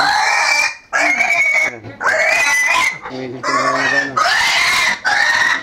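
Piglets squeal loudly and repeatedly in shrill bursts while being moved on a farm, close up, with farm background noise between cries.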